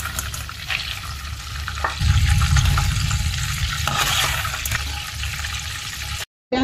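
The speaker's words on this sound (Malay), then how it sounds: "Sekarang kita dah goreng." Oil sizzling and crackling in a pan while frying ingredients for nasi lemak, a steady broadband hiss that swells louder partway through with occasional stirring scrapes, close and continuous with no talk.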